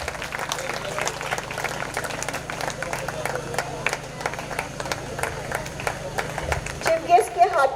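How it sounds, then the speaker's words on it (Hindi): Students clap for an award recipient at a junior college golden jubilee function, a steady crowd applause with scattered sharp claps and background talk, swelling louder near the end. "प्लीज तुलबा और तालिबात, तालियों की आवाज आनी चाहिए।"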